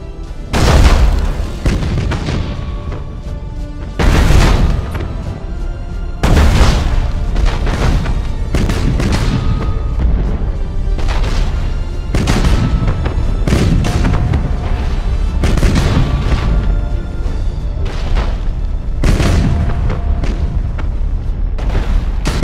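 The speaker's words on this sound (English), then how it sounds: "Broadside macro cannons ready to fire on your order, sir." Broadside macro cannons of a warship in the space battle game Battlefleet Gothic: Armada fire repeatedly, loud booming blasts arriving every couple of seconds over a continuous heavy rumble, with no talking.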